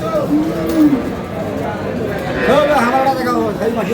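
Cows with calves at a busy rural cattle market bellow in long drawn moos, one early and a louder run later, over the chatter of a crowd and nearby talking.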